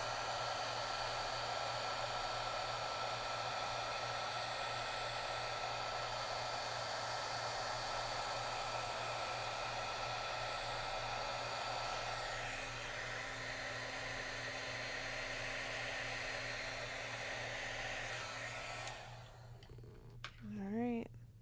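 A handheld heat tool blows a steady, loud whirring rush of air to heat set craft work, running continuously for about twenty seconds before clicking off near the end, with faint talk in the background.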